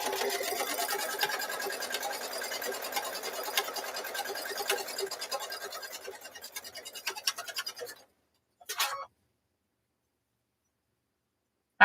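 A sewing machine stitches sandwiched quilt block pieces for a block of the month, running in a steady rapid whir for about eight seconds, then a short final burst before it stops.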